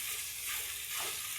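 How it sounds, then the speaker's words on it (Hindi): Finely chopped garlic fries in a pan for a sweet-and-sour raw mango chutney, giving a steady, close, even sizzle with no voices. "अच्छी सी खुशबू आने तक हम गार्लिक को फ्राई करेंगे।"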